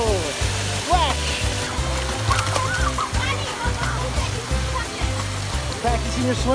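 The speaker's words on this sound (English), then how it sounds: "Whoa! Splash!" Water splashes and a steady rushing flow fill a busy water park, with children's and adults' voices calling out over the wet, splattering roar.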